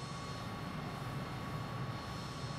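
Steady, even roar of a MiG-21 jet cruising on autopilot in Microsoft Flight Simulator 2020, a continuous engine drone with a faint high whine, holding constant throughout with no talking.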